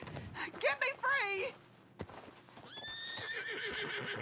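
A horse whinnies loudly in a wavering call amid Red Dead Redemption 2 game sounds, with people talking before and after.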